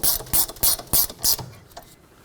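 Ratchet clicking in quick bursts as brake caliper bracket bolts are run down on a 2005-2010 Pontiac G6, about five close, loud ratcheting strokes followed by a quieter tail with faint handling noise.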